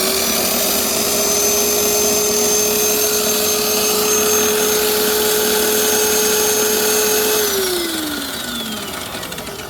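Harbor Freight Drill Master wet tile saw running and cutting, a loud steady whine with water spraying around the blade, with no talk, easing off and dropping in pitch near the end.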